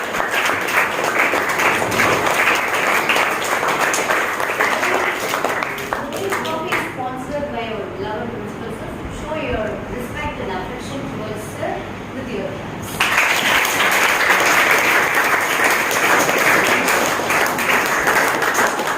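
An audience at a school quiz activity claps loudly and steadily for several seconds, then the applause thins under a stretch of talk and a murmuring crowd before strong clapping returns.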